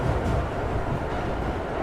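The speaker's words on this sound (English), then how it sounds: "the train jolted back into movement" A train lurches back into motion after its doors hiss shut, giving a steady, loud, broadband rumble of wheels and carriage noise with no voices.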